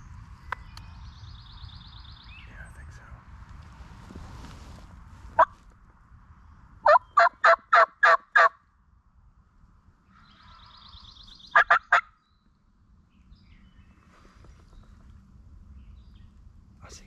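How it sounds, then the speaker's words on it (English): Several wild turkey gobblers (young jakes) gobble near a field edge in two clusters of rapid, rattling calls, fairly distant over a quiet low background with a little soft talk. "That's a lot of gobblers."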